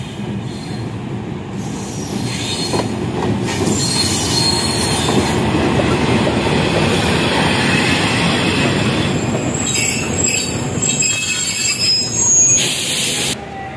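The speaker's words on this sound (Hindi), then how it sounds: "जरा ट्रेन आई" A train passes close by at a station in Gujrat, a loud sustained rumble of wheels and carriages with high squealing and screeching that peaks toward the end before tailing off.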